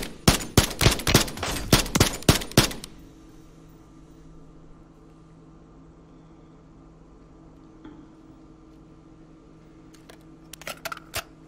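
A fast run of close, loud gunshots in a shooter video game, followed by a long quiet stretch with a low hum and a few faint clicks, then a brief burst of shots near the end.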